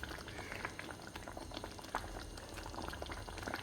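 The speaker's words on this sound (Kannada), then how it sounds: "ಕುದಿ ಬರುವಾಗ ನಾನು ಅದನ್ನು ತೇಡೆ ಮೀನನ್ನು ಅದಕ್ಕೆ ಹಾಕ್ತಾಯಿದ್ದೀನಿ" Fish curry made with theede fish bubbling in a pot on a gas stove, a soft continuous simmer with gentle crackling pops and liquid burbles, quiet and close, with no talking.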